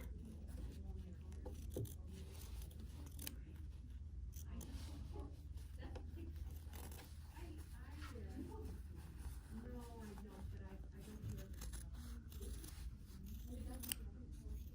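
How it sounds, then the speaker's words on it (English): Scissors cut out a paper heart for a wishing tree ornament, quiet repeated snips and paper rustles close by, with a faint low background hum. "cutting your little heart out like so"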